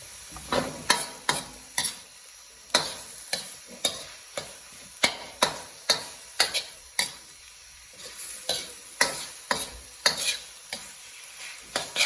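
Repeated scraping strokes of a utensil stirring tilapia in a sizzling pan, irregular rhythm, close up, with a soft frying hiss underneath.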